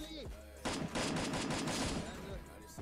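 Gunfire in the battle royale video game Free Fire: several quick bursts of shots rapidly follow one another after a brief opening moment of voice, loud and close over the game's background sound.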